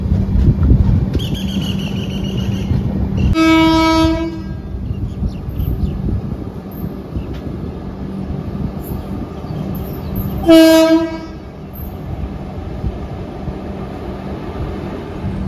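Special passenger train running on rails from Guwahati to Sealdah, with a loud, steady rumble throughout and two horn blasts, one at about four seconds and a shorter one near eleven seconds.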